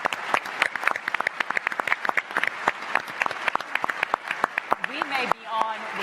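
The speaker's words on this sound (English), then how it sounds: "we can get a big round of applause" An audience at a televised gubernatorial debate claps enthusiastically, many hands beating in a dense, lively burst of applause that tapers slightly near the end, with a voice briefly audible.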